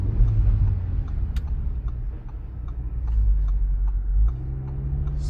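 Audi RS3 8Y five-cylinder engine heard from inside the cabin: a deep, steady, throaty low drone that swells and eases slightly, with faint light ticks above it and no talking.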